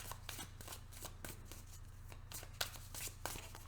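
A deck of tarot cards is shuffled by hand in quick, quiet riffles and flicks, with a steady run of soft snapping card sounds close by.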